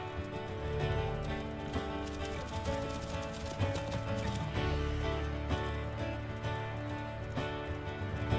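Elk herd hooves moving through the WolfQuest video game world, a dense continuous patter of clip-clop footfalls over a steady music-like bed, with no talking.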